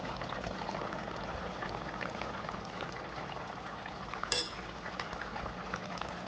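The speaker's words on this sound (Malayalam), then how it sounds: "ഇതിലേക്ക് നമുക്കിനി ഒന്നാം പാലും ഒഴിച്ച് ഗ്യാസ് ഓഫ് ചെയ്യാം." Coconut milk goes into a simmering Kerala fish curry in a pan, giving a steady close bubbling and gurgling sizzle with a single brief metallic clink partway through.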